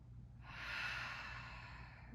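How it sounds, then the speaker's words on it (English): Steady breathy exhale through the mouth during a yoga class, a soft airy rush that swells and then sustains over about two seconds, close and quiet. "Maybe allowing your exhales to come from your mouth."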